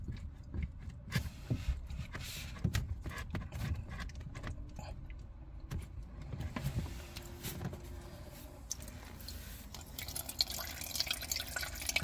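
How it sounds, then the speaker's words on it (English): Leftover water drips from a Whale caravan water filter into a bowl, scattered small irregular drips and splashes, close and fairly quiet, over a faint background hiss. "I'm dripping that into a bowl which I had ready. So just residue water left in the filter"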